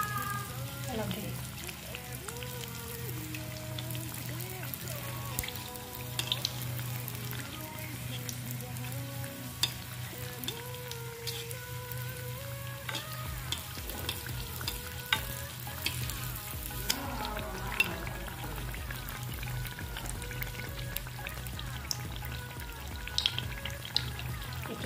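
Tel pitha, an Assamese rice cake, frying in oil in a pan, giving a steady close sizzle with occasional stirring scrapes and a faint voice speaking over it.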